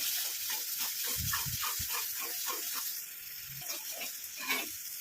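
Gooseberry pulp stirred in oil over a low flame gives a soft, steady sizzle and hiss, with faint scraping and bubbling running through it and a few low knocks along the way.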